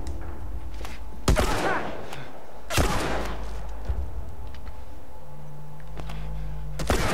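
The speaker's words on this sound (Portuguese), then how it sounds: "Quando você dá um tiro, parece um monte." Gunfire in the video game The Last of Us Remastered: several loud, sharp shots ring out spaced a second or so apart, each with a booming echoing tail, over a low steady rumble.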